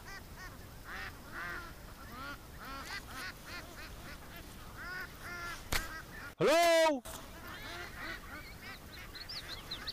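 Ducks honking and quacking outdoors in a series of short calls, moderately near, with someone speaking briefly and a sudden loud burst midway; a thunderstorm is nearby.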